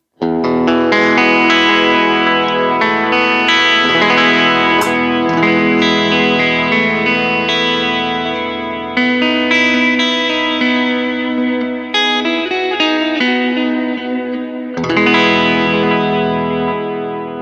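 Electric guitar played through a Line 6 Helix modelling a Fender Bassman amp with drive turned down and volume raised, sustained chords and ringing notes with slight grit and reverb, continuous and loud with brief pauses between phrases, no talking.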